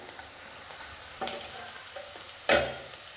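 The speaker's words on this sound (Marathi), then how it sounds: "कांदा छान असा भाजला गेला आहे" Onion for ridge gourd chutney fries quietly in a pan, a soft steady sizzle broken by two sharper stirring scrapes, the second louder and close.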